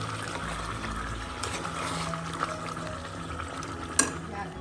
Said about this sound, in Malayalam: നന്നായി ഒന്ന് മിക്സ് ചെയ്യും.